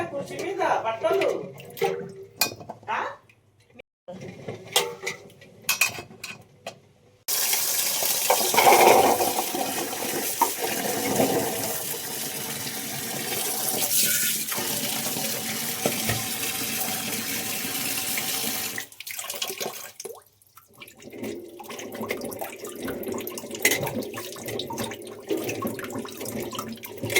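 Tap water runs and splashes into a sink as Indian gooseberries covered in red soil are rinsed. The flow is steady and fairly loud through the middle, with quieter handling and dripping before and after.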